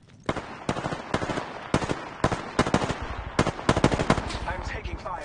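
Rapid bursts of gunfire in Apex Legends, a run of quick automatic volleys with short gaps between them, loud and close, with brief voice chatter mixed in.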